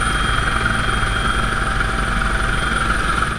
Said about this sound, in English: a helicopter zoomed in